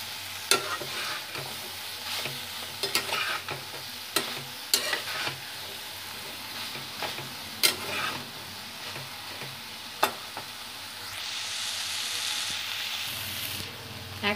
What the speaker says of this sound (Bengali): মশলাটাকে এবার একটু 1 মিনিট মতো কষিয়ে নেব।